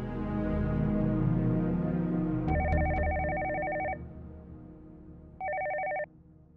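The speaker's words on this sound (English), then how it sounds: "You make a call to her." Telephone ringing after a call is placed: a steady dual-tone ring bursts twice in a regular pattern, clear and fairly loud, over a fading low background rumble.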